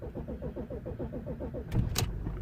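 A 2007 Audi A8 with a weak battery cranks over in a steady, rhythmic starter churn for under two seconds. A couple of sharp clunks follow as the engine catches, close by and moderately loud.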